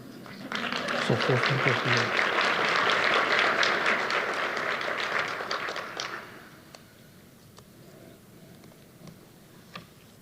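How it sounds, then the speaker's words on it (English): A luncheon crowd breaks into loud, dense applause lasting several seconds, then tapers into a few scattered claps and room noise, with voices faintly mixed in. "You could go ahead and clap for Brandy."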